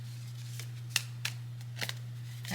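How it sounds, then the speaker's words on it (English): A fresh deck of Loteria cards is shuffled by hand, a few crisp, scattered riffling snaps over a steady low electrical hum, with no talking. "I'm being guided to shuffle like this, which I don't normally do. This is a fresh deck though"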